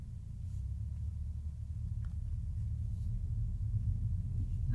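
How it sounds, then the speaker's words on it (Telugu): A Mini Cooper S JCW Pack 2025 creeping slowly forward in drive mode, giving a low, steady, muffled engine rumble heard from inside the cabin, quiet and continuous with no one talking. "సో ఇది నార్మల్గా మనం డ్రైవ్ మోడ్లో పెట్టేసి కార్ని కొద్దిగా దూరం ముందుకు వెళ్ళాలి"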